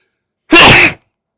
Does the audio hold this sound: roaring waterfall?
no